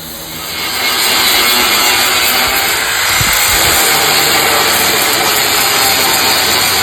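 Loud, continuous grinding and cutting on the welds of a 1955 Chevy truck, a harsh high whine held nearly the whole time, with a brief heavier rasp around the middle.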